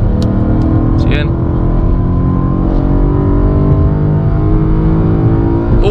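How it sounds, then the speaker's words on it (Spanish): BMW M3 E92 engine pulling hard on a street run, a steady loud drone with rising harmonic pitch throughout, heard from inside the car while a voice talks over it briefly. "este carro suena delicioso"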